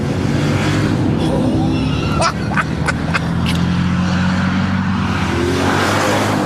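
A bone-stock 2003 Mercedes E55 AMG sedan engine pulls hard under acceleration with a steady, loud drone and a rising note, joined by brief sharper tire or road noises partway through.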